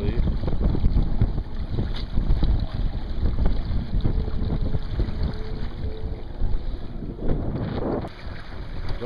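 Steady wind rushes over the microphone with water sloshing against a hull, a continuous blustery roar throughout as a boat sails.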